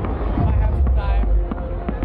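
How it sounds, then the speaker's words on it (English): Fireworks go off at the EDC 2024 music festival. Scattered, muffled bangs sound through a dense, continuous crowd roar, with voices in the mix. "Dude, how many fireworks is this gonna roll, dog?"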